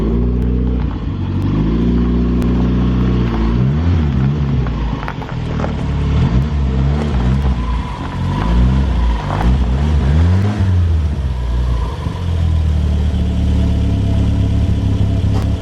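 A Cadillac car engine idles and then revs as it is driven into a garage, a loud, close rumble that rises and falls through several throttle swells before settling back to idle.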